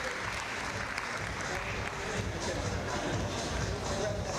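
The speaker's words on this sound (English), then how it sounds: "the crowd are giving these two a big round of applause" Crowd applauding at the final of a climbing championship, a steady wash of clapping and cheering noise filling the whole stretch at moderate distance.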